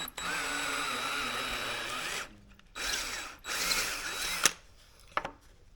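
A hand-held power drill bores a 3/8 hole with a bit, running in loud bursts with brief pauses between them and a few sharp clacks at the end.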